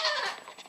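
Goats calling at feeding time, a brief, fairly close bleat with a wavering high-pitched tone that fades out.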